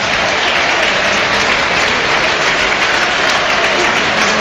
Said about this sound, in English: And the applause is going round for the player of the match